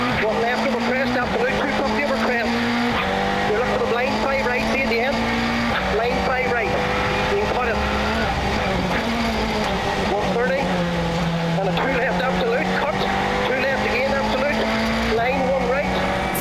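A rally car on a Circuit of Kerry Rally stage in Kerry drives hard, its engine holding a droning tone that steps up and down through gear changes, running continuously under a commentator's voice.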